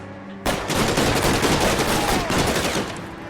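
A shotgun blast erupts in the video game L.A. Noire, a loud sudden report followed by a sustained burst of gunfire and echoing noise that fades slightly toward the end.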